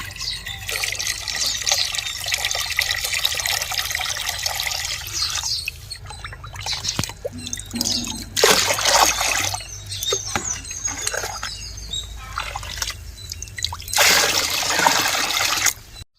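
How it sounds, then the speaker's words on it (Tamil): Filtered water is poured and mixed into a bucket of water for watering rose plants, giving splashing, trickling bursts that come and go in waves, close and fairly loud. "இப்போ நம்ம இந்த ஃபில்டர் பண்ண தண்ணியை இப்போ 1 பக்கெட் தண்ணிக்குள்ளே இது கலந்து எல்லா செடிக்கும் கொடுக்க போகிறோம்"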